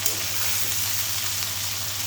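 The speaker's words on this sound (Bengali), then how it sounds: "এখন আমি সুন্দর করে একটু ভেজে নিব, হালকা একটু আর কি, বেশি না" Green banana pieces fry lightly in oil for a raw banana and rohu fish curry, giving a steady, close, even sizzle that holds at the same level with no voices.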